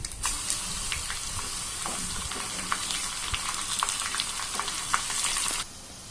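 Mustard seeds, cumin and garlic paste sizzle in hot oil for Andhra-style sambar, a loud, constant crackling fry with scattered pops and stirring that cuts off near the end.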